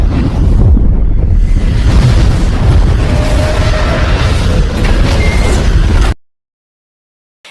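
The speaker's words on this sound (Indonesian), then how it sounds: "bom tersebut akan meledak beberapa detik lagi" A bomb blast on a ship in a film rumbles as a loud, sustained roaring boom with deep low rumble, then cuts abruptly to silence.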